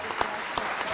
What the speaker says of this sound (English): Let's give them a round warm of applause.